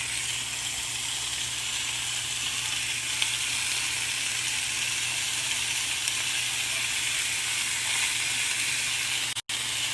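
Roast beef slices sizzle in a pan beside a sandwich, a loud, continuous close frying hiss with a low hum underneath, unbroken and free of talk.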